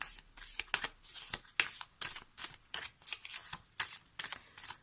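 Tree magic oracle cards are shuffled by hand, a close, crisp series of rhythmic riffling bursts repeating about twice per second, with no talking.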